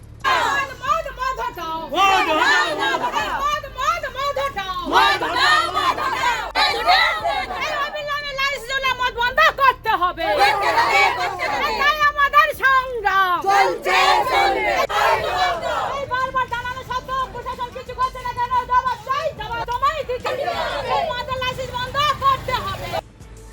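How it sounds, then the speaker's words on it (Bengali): Women protesters at an anti-liquor road blockade chant and shout together in a loud, continuous crowd sound that rises and falls, with many overlapping voices throughout. "রায়দিঘিতে মদ বিরোধী আন্দোলনের রাস্তা অবরোধ করে বিক্ষোভে মহিলারা"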